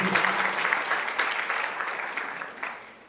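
An audience applauds a government minister at a World Kiswahili Day celebration, a dense burst of clapping that is loud and close at first and then gradually fades.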